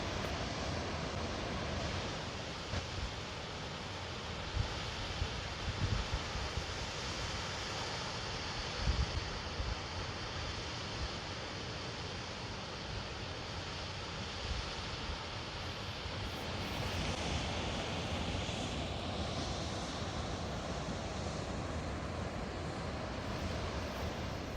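Waterfall pouring directly off Mount Hood on a mountain hiking trail, a steady broad rushing roar heard from a distance and fairly faint, mixed with wind noise and without voices.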